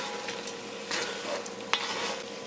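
Garlic shrimp sizzles steadily in a hot pan, a constant close crackle with a few brief stirring scrapes and one sharp tap.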